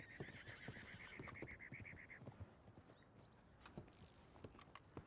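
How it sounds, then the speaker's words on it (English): A horse whinnies in a faint, wavering call, then hooves clip-clop irregularly at a distance through a quiet outdoor background. "Yeah, I keep hearing it. I think it's just a random horse."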